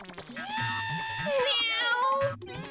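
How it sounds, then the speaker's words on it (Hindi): A cat meows loudly and close in a drawn-out, wavering cry, followed by a shorter meow, with people talking softly underneath. "बिल्ली 2 दिन से हमारे विंग में घूम रही है"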